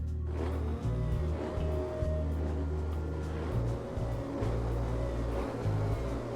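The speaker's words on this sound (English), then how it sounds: "it takes a while for all my engines to start up" Motors of RC model cars fitted with CV joints and a transmission run continuously, a steady loud whirring drone with slight surges throughout.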